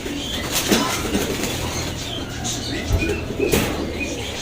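Pigeons coo softly amid rustling and occasional wing flaps, with faint chirps mixed into a steady background noise.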